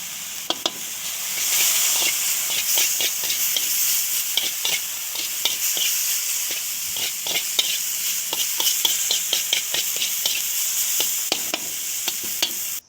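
Pork stir-fries in a pan with instant ancient-recipe holy basil powder, giving a steady loud sizzle and hiss, broken by frequent scraping and clanking strokes of a spatula stirring the meat.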